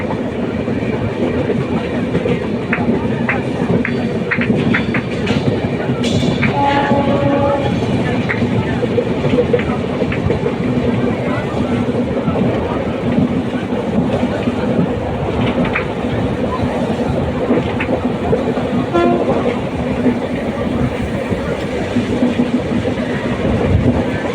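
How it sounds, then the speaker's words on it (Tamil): An express train running alongside a mountain rumbles steadily and loudly nearby, with a continuous clatter and rattle of wheels on the rails throughout. "பாருங்கள் மலையை ஒட்டி போகுது ரயில்"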